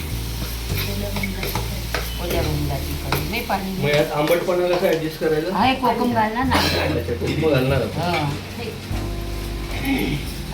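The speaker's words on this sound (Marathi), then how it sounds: "छान वाटण परतून घ्यायचं" Ground masala paste for a fish curry sizzling and frying in a pan while being stirred, with a person talking over it throughout.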